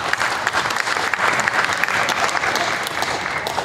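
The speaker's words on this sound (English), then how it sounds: "Let's give these little kids a big round of applause out here today." An audience claps for young children showing Jersey heifer calves at the Ontario Summer Show. The applause is dense and steady, filling the space evenly from start to finish.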